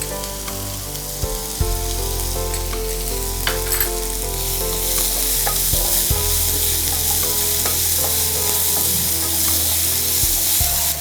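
Chopped raw mango with salt fries in a pan for a spicy mango chutney, making a loud, constant close sizzle with occasional clacks of a spoon stirring, and no voices.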